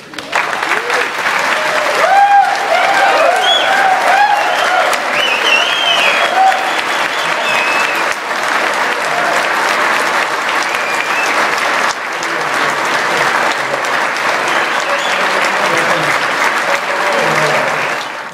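A large audience breaks into sustained, loud applause, clapping steadily for the full stretch to welcome former House Speaker Newt Gingrich at a Windham gathering, with scattered cheers mixed into the dense clatter.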